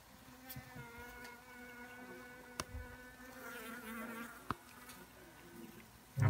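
Steady buzzing of wild bees nesting in a rental house hums throughout, a continuous drone with a couple of sharp clicks and a brief thump near the end.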